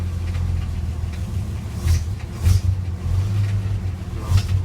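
An old car engine idles with a slight lope outdoors at a car show, a steady low rumble that swells in uneven pulses every second or so.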